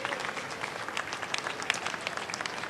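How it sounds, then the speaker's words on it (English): A short burst of crowd applause at a New York City bike expo, many hands clapping evenly at moderate volume with no speech over it. "Let's give them a round of applause to thank them for all they have done."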